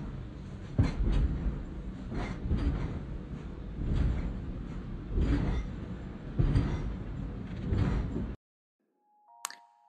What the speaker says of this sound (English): listen to how the London train sounds in the background